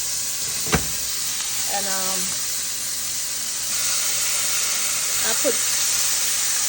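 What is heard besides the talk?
shrimp searing in a hot pot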